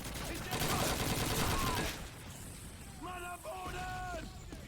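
Rapid gunfire from Call of Duty 2 on Xbox 360 rattles loud and dense for about two seconds, then stops as a person talks over the quieter game ambience.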